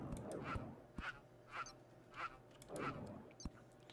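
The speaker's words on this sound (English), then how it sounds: "The early warning bird." Short bird calls in the Terraria video game repeat about every half second, quacking and faint, with no talk.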